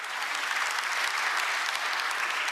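Steady, dense applause from a crowd at a Korean government policy briefing fills the whole stretch, loud and even without pause.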